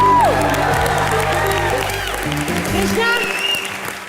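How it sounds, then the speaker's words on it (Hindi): Studio audience applause and cheers for Bharti and Karan on a comedy show set, loud and continuous with a few whoops, while a host talks over it and music tones sweep in and out. "चलिए भारती और करण के लिए जोरदार तालियां"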